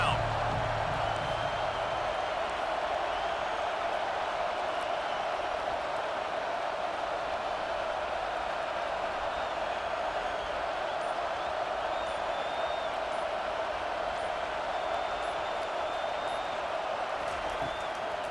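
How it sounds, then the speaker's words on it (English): Stadium crowd noise roars steadily on third down in College Football 25, a dense, continuous wash of distant cheering that holds loud and constant throughout. "Decibels rising as the crowd gets behind this defense on 3rd down"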